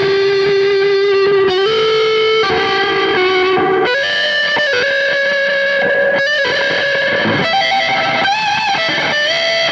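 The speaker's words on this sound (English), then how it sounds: "Kind of shitty reverb pedal for the sound, and it's not run through an effects loop, it's just straight through" Electric guitar played straight into the amp through a cheap reverb pedal rings out in sustained, distorted chords and held notes that shift pitch every second or two, loud and washed in reverb, with no voices.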